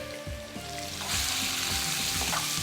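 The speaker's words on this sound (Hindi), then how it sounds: "ये हमने चिकन शामिल किया और चिकन को हम थोड़ा सा करेंगे फ्राई।" Chicken pieces sizzle as they fry in hot oil in a kitchen pan for butter chicken, a steady close crackle that grows louder and brighter partway through, with no talking.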